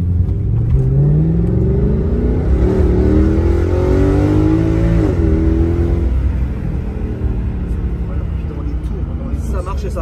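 A sports car engine revs loudly and close, its pitch climbing through the gears before settling back to a steady, lower drone.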